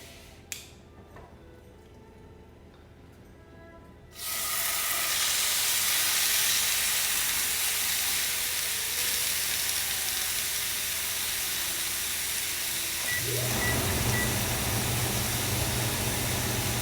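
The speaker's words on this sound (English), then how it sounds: "set my pan back over medium-high heat while I'm browning this" Pork tenderloin sears in a hot pan over medium-high heat, a loud, steady broadband sizzle that starts abruptly and continues, a low hum joining in near the end.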